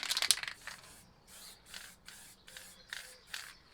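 Short bursts of a nearly full spray paint can hiss out in a rhythmic series of puffs, the first one longest and loudest, with no talk over them.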